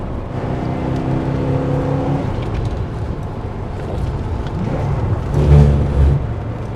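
A Porsche 928 driven on a twisting mountain road on Brown Mountain gives a steady, close engine drone from inside the car. The engine note swells briefly louder near the end, and no one speaks.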